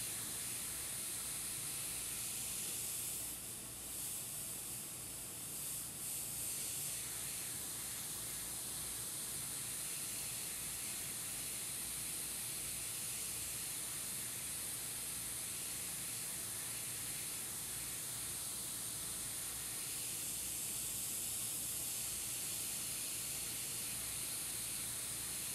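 Steady spray misting while painting shadows, a continuous airy hiss running almost unbroken for the whole stretch, fairly faint and even, with no voices.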